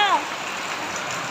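Steady hiss of rain falling on a surface, continuous and moderately loud throughout, with a brief tonal sweep at the start.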